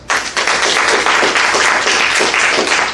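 A large audience at an improv student showcase claps loudly and steadily, a dense wash of applause lasting throughout.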